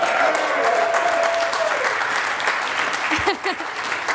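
Steady applause and cheering from a crowd at an opening ceremony, dense clapping throughout with scattered shouts and a whistle.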